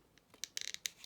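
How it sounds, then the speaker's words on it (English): A handheld paper punch presses through paper in a few quick, faint crunching clicks, close up and brief, with no voices. "I'm just going to use this punch today."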